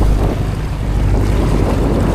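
Strong southwest monsoon wind roars over a fishing boat on the open Pacific as waves of five to six feet slap the hull, a loud unbroken wash of noise without speech.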